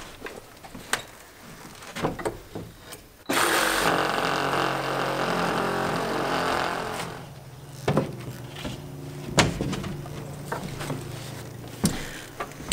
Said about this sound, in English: We're using the Sawzall, cut ourselves a doorway opening so we can quit burglarizing ourselves.